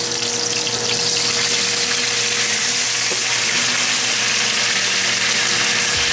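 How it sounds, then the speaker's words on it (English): Cassava pieces sizzling steadily in a hot pan on high heat, a dense continuous frying hiss with faint stirring, no voices. "We are going to fry this remainder of the cassava"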